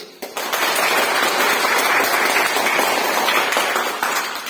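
A group of children applauding for Uncle Safar with steady, continuous clapping that lasts about four seconds before tapering slightly.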